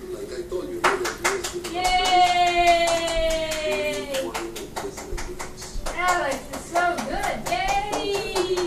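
Hands clapping for a baby boy bouncing in a Jolly Jumper at home, a steady run of sharp claps close by throughout, mixed with a baby's high babbling and adult voices talking over it.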